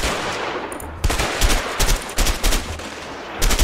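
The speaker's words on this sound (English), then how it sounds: "Oh, you're shooting the same guy." Gunfire in the co-op game A Way Out: repeated loud close shots and short bursts, sharp cracks clustered in quick succession with brief gaps, with no talking.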